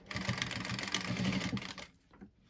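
A domestic sewing machine stitches along the fold of a small rounded fabric zip pouch, a close, steady rapid whir of needle strokes lasting about a second and a half before it stops and only faint handling noises remain.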